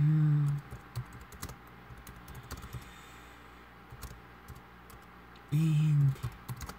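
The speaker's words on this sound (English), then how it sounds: "I just think about that now as I'm typing this here on the laptop." Fingers tap rapidly on a laptop keyboard in quick irregular bursts of light clicks, quiet and close, with short moments of speech at the start and near the end.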